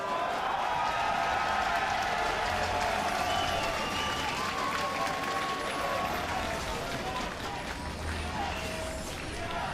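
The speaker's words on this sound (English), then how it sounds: "as you can hear the crowd chanting" A large esports arena crowd at a North American League of Legends semifinal roars and chants steadily, a dense loud wash of voices and clapping throughout.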